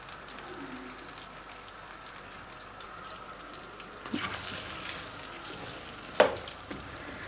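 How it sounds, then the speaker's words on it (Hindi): Okra (bhindi) deep frying in hot oil, a steady, moderately quiet sizzle with a few louder crackling bursts and utensil clatter toward the end. "आधी आधी भिंडी में डाल के 2 दफ़ा मैं इसको डीप फ्राई कर लूँगी"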